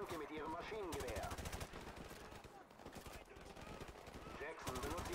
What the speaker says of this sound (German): Jackson, benutze Ihr Maschinengewehr.